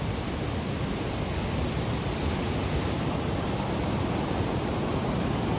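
A powerful stream of high-pressure water roars in a continuous, dense hiss, close and loud, in a hilly village setting, with no voices over it.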